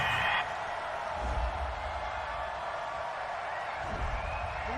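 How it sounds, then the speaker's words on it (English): Displeased stadium crowd at an NFL game, Jaguars versus Texans, reacting to a penalty flag on third down: a steady broad roar of many voices with low rumbling swells, continuous throughout. "Well, the crowd doesn't like that."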